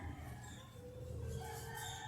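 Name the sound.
rooster crowing near a mini park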